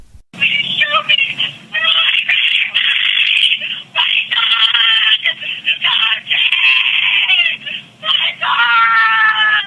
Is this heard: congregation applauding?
no